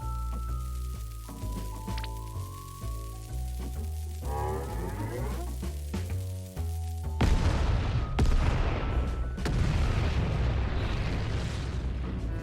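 A bomb blast in Final Fantasy XIV: a deep, loud boom breaks over the game's music and rolls into a sustained rumbling burst that fills the rest of the moment, with no talking.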